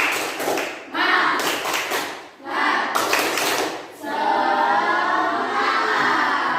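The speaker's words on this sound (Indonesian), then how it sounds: "coba tepuk semangat." A group does a spirit clap in short rhythmic bursts with brief pauses between, then breaks into a sustained cheer of many voices shouting "semangat".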